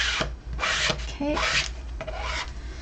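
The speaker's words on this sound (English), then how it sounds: "I'm just going to kind of scrape it off into my thing here" A card scraping excess Odicoat waterproof coating off fabric, in several close, rough rasping strokes with short gaps between them, clear and fairly loud throughout.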